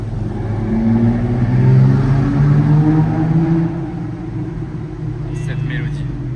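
A Lamborghini Revuelto with Gintani exhaust accelerating in Monaco, a deep rumbling engine that builds and swells with shifts in pitch before settling, loud and near, with a voice briefly talking over it.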